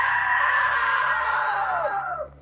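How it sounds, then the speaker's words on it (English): A loud, sustained scream from a man in What Remains of Edith Finch holds strong for about two seconds, then bends downward in pitch and cuts off abruptly, alone over a low background hum. "Now that was a great scream."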